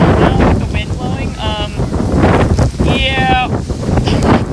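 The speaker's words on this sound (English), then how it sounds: "It's really cold now with the wind blowing." Cold wind blowing outdoors during a rainstorm after a long Texas drought, a loud, steady buffeting roar hitting the microphone throughout, with a few brief tonal squeaks or voice-like bits over the rushing noise.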